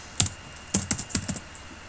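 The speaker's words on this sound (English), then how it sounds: "Typing" Quick bursts of computer keyboard typing, a single tap followed by a cluster of crisp, close key clicks, then quiet.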